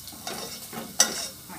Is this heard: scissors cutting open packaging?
no